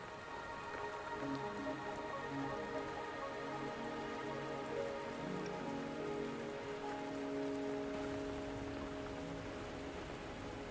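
Steady, even rain falls and patters across surfaces in a Wuthering Waves game scene, a continuous soft hiss with a low tonal game ambience beneath it and no voices.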